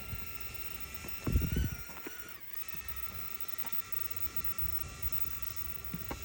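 A V995 drone flies up a road and climbs in altitude, its steady high-pitched whine of motors running continuously, with a few brief bumps and a momentary dip in pitch partway through.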